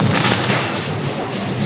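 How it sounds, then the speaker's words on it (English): Fireworks crackle and pop at Lunar New Year celebrations in Bangkok's Chinatown, forming a dense, continuous wash of bursts from a busy street crowd, with a thin whistle rising over it. "You hear the fireworks?"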